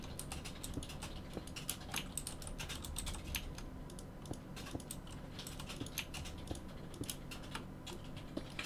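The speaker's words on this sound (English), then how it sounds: "if you can hear any typing, I'll just explain" Steady typing on a computer keyboard in a quiet room, a continuous run of soft, rapid key clicks at a moderate distance with no talking.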